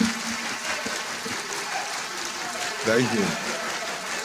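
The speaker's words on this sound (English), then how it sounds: "let me invite all of us in the National Assembly to applaud the remarks of the Right Honorable Speaker" Members of Nigeria's National Assembly applaud the Speaker's remarks during a budget presentation, their clapping a broad wash across the hall beneath a voice briefly speaking.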